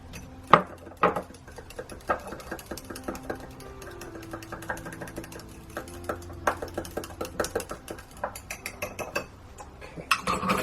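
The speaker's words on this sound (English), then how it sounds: "So I'm just going to whisk that" A small cup of cold process soap batter being whisked, producing light irregular ticking and clicking taps with a soft mechanical whir, fairly quiet and close, with no talking.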